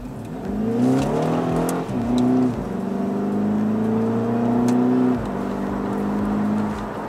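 A Volkswagen Scirocco 2.0 TSI engine accelerating through the gears, its rising whine and drone dropping at each shift, heard from inside the car and fairly loud, with no talk.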